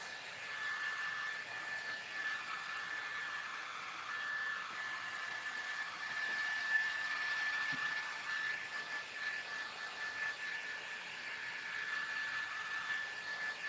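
A hair dryer runs steadily throughout, drying metallic paint on a thrifted giraffe figure during a makeover, a constant broadband whoosh with a faint whine, moderately loud and close with no talking.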